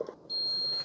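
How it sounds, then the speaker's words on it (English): A single sustained electronic beep from a Ninja DualBrew Pro CFP301 coffee maker signaling it is done, clear and high-pitched, lasting about half a second in a quiet room. "Okay, so when it beeps at you, it tells you it's done."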